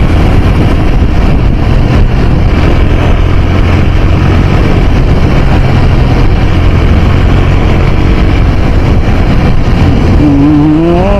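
Riding a motorcycle along a busy highway among slow-moving cars: loud, continuous engine and road rumble with wind noise, unbroken throughout and close to the microphone.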